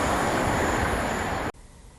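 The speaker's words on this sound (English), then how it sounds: "a large amount of noise and vibration are produced when the train moves, especially at a high speed." A train runs on steel rails at speed, its wheels in contact with the track. The close, loud roar and rumble holds for about a second and a half, then cuts off abruptly to a much quieter background.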